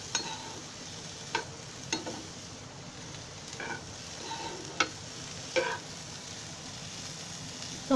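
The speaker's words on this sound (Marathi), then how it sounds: "अशी जरासं थोडंसं फ्राय करून घ्यायचं सुकच. थोडं हलवत राहायचं." Bitter gourd dry-fries in a pan on a gas stove, giving a soft, steady sizzle with occasional light scrapes and clicks of stirring.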